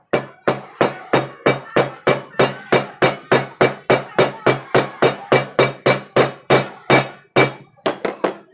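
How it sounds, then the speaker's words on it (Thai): A hole is worked into a plant pot with a steady run of sharp, evenly spaced tapping strikes, about three per second, loud and close, speeding up briefly at the end. "เราก็เจาะลงไปค่อย ๆนะครับ"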